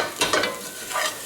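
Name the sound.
potatoes mixed with paprika and onion frying in oil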